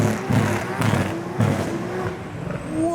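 At a large car meet, a white R32 GTR with gold wheels launches hard, its engine roaring up in loud surging revving pulses over crowd noise and voices.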